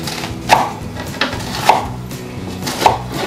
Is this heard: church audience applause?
no